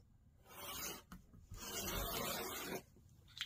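Folded quilting fabric is cut in two long, close, rasping strokes separated by a short pause, followed by a quiet handling noise.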